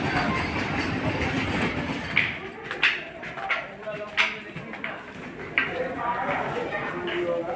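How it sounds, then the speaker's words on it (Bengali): Busy echoing ambience at New Jalpaiguri (NJP) railway station, heard from the overbridge, with intermittent clanks and rattles of rail traffic under ongoing talk and crowd murmur. "এনজিপি স্টেশনের ওভারব্রিজ ধরে হেঁটে যাচ্ছি"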